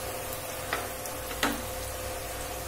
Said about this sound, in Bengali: এবারে আমি আদা রসুন বাটাটা দিয়ে দেব। একটু ভালো করে ভাজতে হবে।